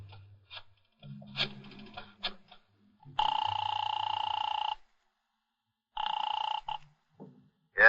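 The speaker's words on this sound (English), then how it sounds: "I dialed the Kelsey residence." A telephone rings twice through the earpiece after a number is dialed, in a radio drama sound effect. Each ring is a loud, steady, buzzy tone about one and a half seconds long, with a pause between rings and a few faint clicks and knocks before them.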